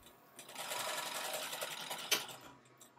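Sewing machine fitted with a zipper foot stitching a seam for an invisible zipper, a close, fast mechanical whirring run lasting about two seconds that ends with a sharp click.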